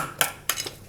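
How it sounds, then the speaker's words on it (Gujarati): Cooked Maharashtrian ukad, a thick rice-flour dish, emptied from a small bowl onto a serving dish: two clear clinks and scrapes of utensil on crockery, close and fairly quiet, with no talking. "વાટકાને આપણે ડીશમાં કાઢી લઉં આ રીતના"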